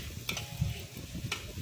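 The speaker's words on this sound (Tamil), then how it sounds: "பொட்டேட்டோ கொஞ்சம் கிண்டி விட்டுட்டு" Potatoes fry in a pan while being stirred, with a soft sizzle and a couple of light utensil scrapes in a brief, quiet burst.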